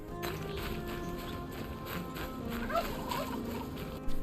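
Turkeys gobble in a video game, a few warbling calls mid-clip over a steady ambient bed with faint footsteps, moderately distant and fairly quiet.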